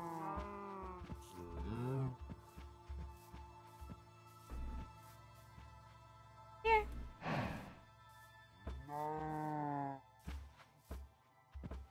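Cows in the Minecraft video game give several low moos spaced out over the clip, fairly quiet, with a voice talking briefly between them.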